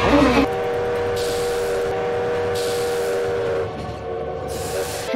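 A train running inside the video game Lobotomy Corporation, with a steady mechanical rumble and tonal hum holding throughout, loud and continuous with a brief hiss near the start, heard alone without voices.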